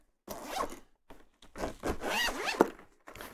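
A UDG Creator hardcase for an Akai Fire controller being unzipped, several close, rasping zipper pulls in quick bursts with short pauses between them, no talking.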